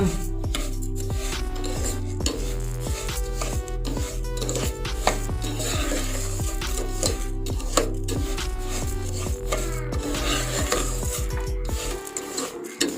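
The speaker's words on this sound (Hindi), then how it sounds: "चाशनी बनाने के लिए हमें मुसलसल चम्मच हिलाते रहना है।" A spoon scrapes steadily around a pan as sugar and ghee cook into syrup for sesame laddu, a close, continuous rhythmic scraping and clinking with no talking.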